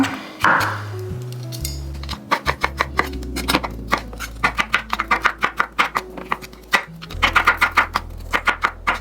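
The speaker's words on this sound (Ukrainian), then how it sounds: "Тому нарізаємо гриби." Mushrooms are sliced with a knife on a board, a fast series of crisp, close chopping taps in steady rhythm with a few brief pauses, no talking.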